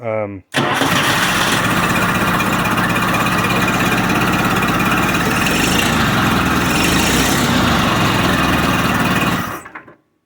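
A Baker forklift with a Continental F163 engine starts up and runs steadily, a loud, close, continuous engine drone that holds for about nine seconds before cutting off at the end.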